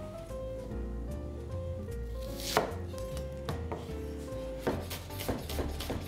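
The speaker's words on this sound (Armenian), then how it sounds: "Սոխը առաջարկում կտրատել կիսաուղակներ։" A knife chops an onion into half rings on a wooden board, steady rhythmic close taps with a few heavier strikes, no talk.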